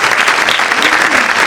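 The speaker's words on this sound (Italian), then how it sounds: "Farei un applauso per lei" Audience applause at a theatre evening for a comedy in Sardinian Logudorese, honoring a woman guest; a brief, steady burst of dense clapping, loud and close, with faint voices mixed in.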